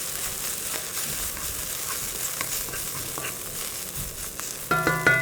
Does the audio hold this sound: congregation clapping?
no